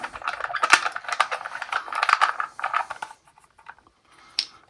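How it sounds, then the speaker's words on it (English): A wrench tightens the main body screw into a brittle resin part while assembling a Snø Motion Tuneables THREE2. It gives close, quick clicks and ticks for about three seconds, then a couple of faint taps. "get the main body screw, push that in, take the wrench and just tighten it up."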